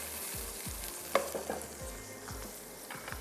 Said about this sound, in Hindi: पिसे हुए काजू या फिर काजू का पेस्ट थोड़ा सा फ्राई होने देते हैं